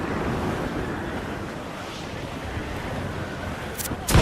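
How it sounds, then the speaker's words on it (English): Wind and sea waves in the video game Assassin's Creed 4 Black Flag, a continuous rushing surf and gusting wind at sea that holds steady, with a short louder burst at the very end. "The wind is picking up nasty!"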